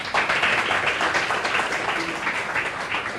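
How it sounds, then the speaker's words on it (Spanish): An audience at a talk on the populist roots of Argentina's decline claps for the speakers, a steady, dense patter of applause that holds evenly from start to finish. "nuevamente un fuerte aplauso a los ponentes"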